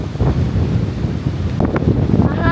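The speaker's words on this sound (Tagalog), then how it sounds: "Sobrang mahangin." Strong gusting wind buffets the microphone in loud, rough bursts on a beach in Siargao, Philippines, with a hint of surf behind it and no clear speech.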